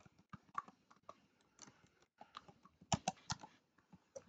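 Fingers type on a computer keyboard in quick, irregular bursts of light clicks, close and fairly soft, with short pauses between runs of keystrokes.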